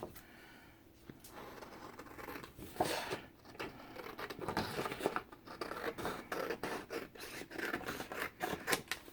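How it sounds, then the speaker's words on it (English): Scissors snip steadily along a line through a paper offcut for a binder journal cover, making a close run of small crisp cuts that continues throughout. "I'm going to cut this, I think, right on this line right here."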